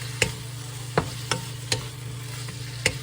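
Vegetables stir-frying in a pan with a spoonful of dashi give off a steady sizzle, punctuated by about six sharp spatula scrapes and clicks at irregular intervals.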